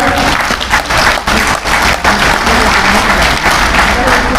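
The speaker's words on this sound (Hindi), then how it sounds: "सभी लोग ताली बजाएं" A crowd at a Buddhist gathering in India claps together, loud and continuous, a thick roar of many hands that barely dips for four and a half seconds.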